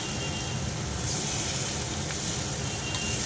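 Shrimp frying in a pan for a banana-flower and shrimp dish, giving off a steady, close sizzling hiss that stays even and unbroken throughout.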